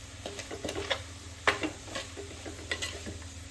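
Amla gooseberry pickle being mixed with chilli, asafoetida and fenugreek powders in a pan over a low flame: soft scraping and stirring scrapes with light clinks, one sharper knock of the spoon against the pan, close and quiet.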